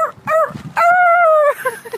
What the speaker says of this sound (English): today I'm at a dog park Lots of dogs here